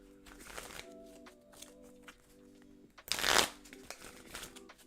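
A deck of Pokémon trading cards gets shuffled, producing a loud, dense riffle burst midway through after some quieter handling and faint background tones.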